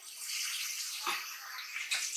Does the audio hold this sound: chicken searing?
no